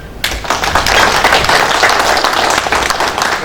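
Loud round of applause from an audience at a project meeting, starting abruptly and continuing as dense, close clapping with a steady rhythmic texture.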